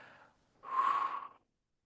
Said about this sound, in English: Take a nice full breath in and then blow it out through rounded lips.